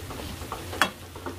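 Daikon mochi (radish cake) with dried shrimp and sesame oil frying slowly over low heat in a pan, a faint, quiet sizzle with a few small clicks and one sharper tap.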